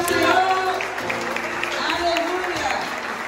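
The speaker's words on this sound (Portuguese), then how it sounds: "vamos aplaudir o Senhor." A church congregation claps during a baby's presentation service, a steady wash of applause with voices talking and calling out over it.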